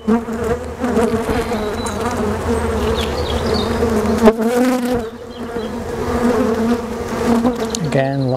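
Honeybees buzz loudly and continuously around an open hive during a UK beekeeping inspection, a close, dense droning hum with individual bees passing near the microphone.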